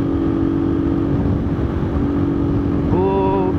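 A new motorcycle engine being broken in runs at 6000 RPM at about 100 km/h, giving a loud, steady droning hum throughout with constant wind and road roar.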